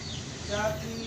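A brief cluck from a chicken, fairly faint, over low background noise.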